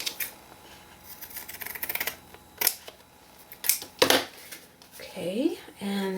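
Scissors snip through a strip of masking tape during an art project, with a few sharp close cuts and rustles of tape toward the end, after quieter handling noises and some talking.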